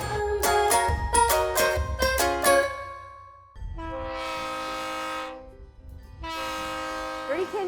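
A Verde Canyon Railroad train horn in Arizona blasts in several short bursts, then sounds two long sustained chords with a pause between, loud and close.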